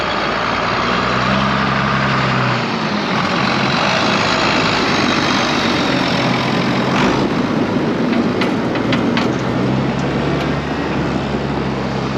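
A pickup truck engine runs steadily while warming up, its grill cover fitted, a constant close drone with a low rumble that dips briefly and returns.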